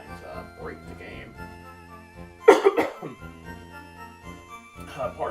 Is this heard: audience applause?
no